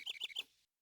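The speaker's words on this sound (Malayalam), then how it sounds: "അത് കുരുവിയാണല്ലോ." A cartoon sparrow chirps three or four quick, high, close tweets in a rapid burst that cuts off into silence after about half a second.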